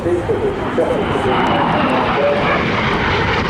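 An L-39 Albatross jet trainer flying at the Southport Airshow 2025, its loud broad engine roar steady throughout, with a commentator talking over it on the public address.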